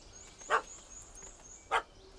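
A puppy in The Witcher 3: Hearts of Stone gives two short, sharp barks about a second apart, moderately loud over a quiet in-game ambience.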